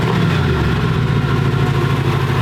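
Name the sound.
car engine starting and idling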